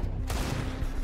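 Two quick gunshots in Counter-Strike: Global Offensive during a G2 versus Vitality pro match on Vertigo, a sharp crack followed by low booming reverb in a brief, loud burst.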